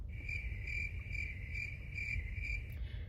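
A continuous high-pitched cricket chirp trills steadily over a low background rumble, with no other sounds.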